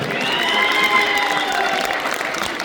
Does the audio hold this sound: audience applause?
yes